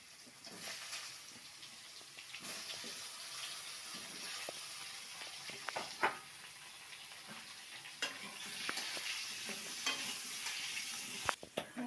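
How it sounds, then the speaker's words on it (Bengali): Pointed gourd slices frying in hot oil in a home kitchen: a continuous bright sizzle with occasional scrapes and clinks of stirring, plus soft pops and brief watery splashes, moderately close and with no talking. "এবার পটল ভাজা চাপাবো"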